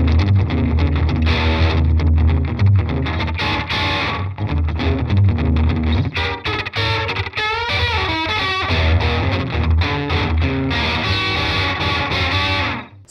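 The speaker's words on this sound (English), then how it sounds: "Now let's get some decent slapback tones out of this guy." Electric guitar played through a T-Rex Reptile 2 analog delay pedal set to short slapback repeats, a loud, continuous distorted riff with quick echoes trailing each note and no speech.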